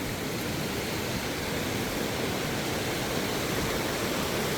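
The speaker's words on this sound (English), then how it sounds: "just literally standing here watching both of these waterfalls at the same time" Two waterfalls near Sewanee, Tennessee pour in a steady, broad roar of falling water, constant and fairly close with no pauses or voices.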